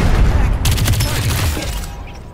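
Rapid automatic gunfire from the MK.R weapon in the battle royale game Farlight 84, a loud dense burst of shots that starts abruptly and fades over about two seconds.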